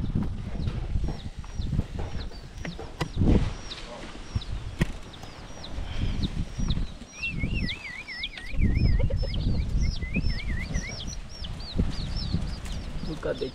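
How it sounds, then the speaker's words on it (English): Chicks and chickens in a village cluck and cheep steadily, with high peeping calls repeating throughout over a noisy outdoor background, wings occasionally flapping. "The chicks over here,"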